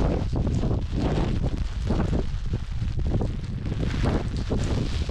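Strong wind driving heavy blowing snow while exploring outdoors in Scotland, a constant loud roar buffeting the microphone with no let-up.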